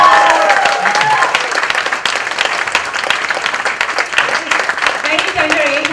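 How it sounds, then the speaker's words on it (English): A book launch audience breaks into dense, sustained applause and clapping, loud and close, with a crowd murmur and voices audible under the clapping. "one huge round of applause for Tanveer"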